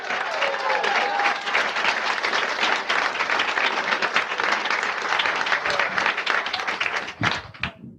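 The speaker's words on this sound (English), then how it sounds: "A big round of applause" Comedy club audience at Laughs Unlimited applauding a comedian's introduction, with dense, steady clapping and some crowd noise for about seven seconds before it tapers off at the end.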